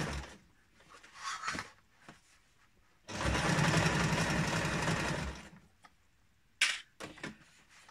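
A sewing machine runs in a steady burst of about two and a half seconds, stitching along the edge of a homemade kick scooter bag, with scattered handling clicks and brief taps before and after.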